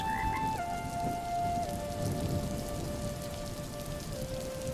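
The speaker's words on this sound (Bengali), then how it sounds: "হ্যাঁ গো, বৃষ্টি তো বেড়েই চলেছে" Heavy rain pours steadily in a cartoon scene, a dense unbroken hiss of drops with a faint sustained tonal backing.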